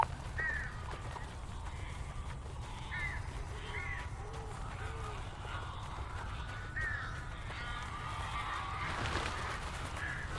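Crows caw repeatedly in Alan Wake Remastered, harsh calls scattered over a steady low ambient rumble, some near and some farther off.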